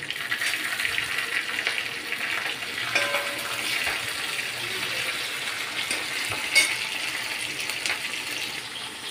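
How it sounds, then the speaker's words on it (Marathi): Garlic and green chili frying in a pan, a steady close sizzle with faint stirring scrapes and a few light clinks throughout, no voices. "आपलं लसूण आणि मिरची छान फ्राय झालेली आहे"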